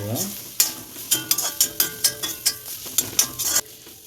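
Vegetables for restaurant-style chicken fried noodles, seasoned with pepper, garam masala and salt, sauté in a pan; quick rhythmic spatula scrapes land about twice a second over a close, steady sizzle.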